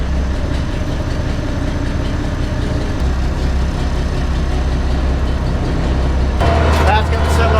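Farm tractor with a bent muffler idling nearby in a steady, loud, low rumble, its pitch shifting slightly partway through, with rattling toward the end.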